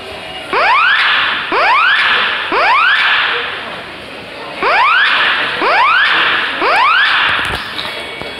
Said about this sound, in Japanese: ただいま火災報知器命動しておりますが